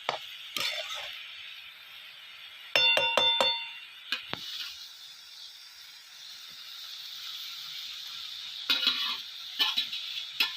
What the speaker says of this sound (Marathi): आता ह्याच्यामध्ये ना आपण वाटलेली चटणी टाकणार आहे